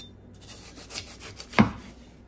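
A knife rasps and scrapes through the rough, dirty core of a pineapple, a soft rubbing cut ending in one louder firm stroke near the close.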